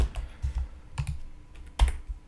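Keys clatter on a computer keyboard in a Bash game on Linux, a quick run of typing with scattered clicks, then one heavier keystroke as enter is pressed, close and clear with no voices.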